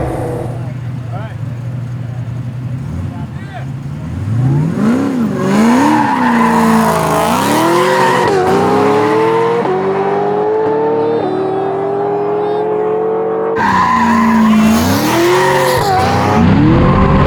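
A 610hp sequential-shifting Trans Am and a Ferrari 488 Pista launch hard from a race start, engines roaring loud and close with rising, shifting revs and tire squeal, while voices talk over the noise.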